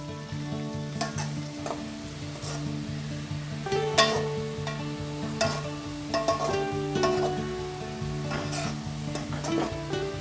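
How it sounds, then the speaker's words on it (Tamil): Chicken pieces for Hyderabadi masala chicken fry in hot oil until golden. The close, continuous sizzle and crackle runs steadily throughout under a faint constant hum, with occasional sharper pops. "இது பொன்னிறம் மாறது வரை ஃப்ரை பண்ணி எடுத்துக்கோங்க."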